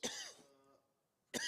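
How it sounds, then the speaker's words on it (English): Two sharp coughs, one at the start and one at the end, sound close and fairly quiet, with near silence between them. "When I coughed, wonder if it does coughing."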